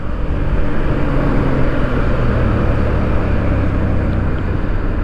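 A Yamaha MT-07 motorcycle engine under throttle while riding, a loud, steady roar with heavy wind rush filling the whole stretch, no voices.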